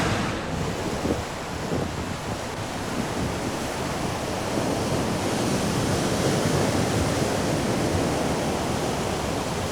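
Steady roar of ocean surf on the Antrim Coast of Northern Ireland, waves washing continuously with wind rushing across the microphone, no voices.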